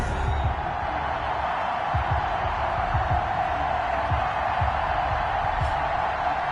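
Simulated stadium crowd at an NFL game between the New England Patriots and Buffalo Bills in a Madden video game, a dense, steady roar with faint cheers and a commentator talking over it.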